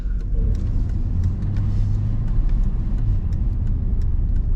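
A 1998 Chevy Suburban 4x4 drives on a rough, patched road, giving a continuous loud interior engine and road rumble with small bumps and rattles, no talking.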